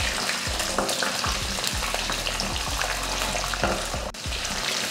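About twenty whole small onions sauté in hot oil with mustard seeds, urad dal and curry leaves for sambar, a steady close sizzle punctuated by rhythmic stirring knocks against the pan.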